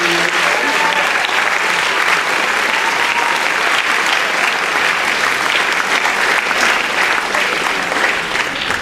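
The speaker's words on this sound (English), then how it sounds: "Let's give them a hand for joining us." Sustained applause from a school convocation audience welcoming teachers, a dense, steady clapping that fills the hall at even loudness throughout with no talk over it.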